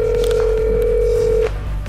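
A telephone emits a steady electronic tone in an office, holding level for about a second and a half before cutting off abruptly, with faint room noise underneath.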